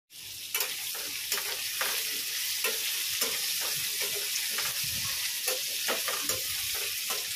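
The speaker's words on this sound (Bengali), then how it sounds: "একদম লাল লাল করে ভাজবো" Food frying in a pan to a deep red, a steady close sizzle with rhythmic stirring scrapes repeating about every half second, no voices.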